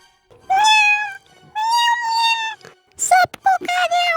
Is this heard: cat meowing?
yes